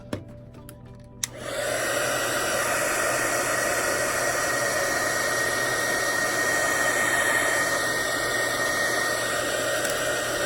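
A heat gun, used for heat embossing a candle, switches on after a couple of soft clicks and blows a steady, loud rushing roar of air that holds constant to the end.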